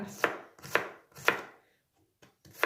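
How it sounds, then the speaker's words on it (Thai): Short green beans cut into small pieces on a cutting board while cooking Thai holy basil pork: four crisp, evenly spaced knife chops close up, then a pause and two lighter taps, with no talking. "เราไม่มีถั่วฝักยาวนะคะเราก็จะมา หั่นถั่วฝักสั้นกันนะคะ"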